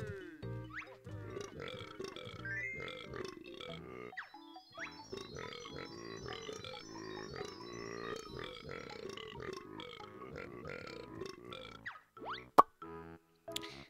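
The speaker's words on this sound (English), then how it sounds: "I would pay that just so that he stops burping." A cartoonish character in the video game Banjo-Tooie burps repeatedly, long wet belches mixed with grunts and plopping sounds, loud and close, continuing in a steady run over game music.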